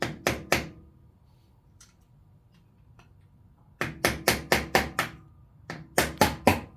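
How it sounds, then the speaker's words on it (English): A small ball peen hammer taps on a Honda CB750 engine part in bursts of sharp metallic knocks, two or three quick close strikes, then a pause, then a run of six evenly spaced taps and a final group of three. "Just a little ball peen hammer. Just barely tap it."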